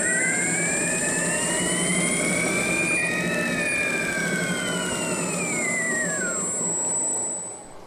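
A homemade flywheel generator whirs loudly and steadily, its tones gliding upward in pitch as the rotor speeds up while a weight is pulled inward, before easing off and fading at the end; no one speaks.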